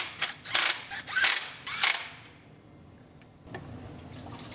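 Ratcheting wrench torquing bolts down to spec on a rebuilt, previously rolled-over Chevrolet Silverado, a few quick close ratchet bursts that then stop, leaving a quiet shop background.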